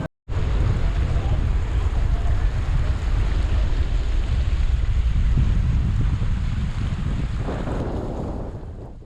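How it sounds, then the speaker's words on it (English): Strong wind buffets the microphone on the coast at Sorrento, a loud, continuous low roar and rumble that holds steady for several seconds before easing slightly toward the end. "The wind."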